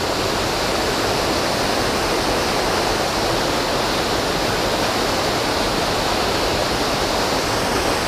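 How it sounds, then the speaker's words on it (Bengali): Bamunidei waterfall at Daringbadi, its water pouring down in a loud, continuous broadband rush heard close up, steady throughout with no voices. "এই ঝর্ণার জল এইভাবে পড়ে বেরিয়ে যাচ্ছে"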